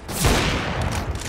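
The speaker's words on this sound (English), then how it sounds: "Pistol." Rapid pistol gunfire in a competitive shooter game, a loud burst of close cracks blurring into a dense volley with no talking.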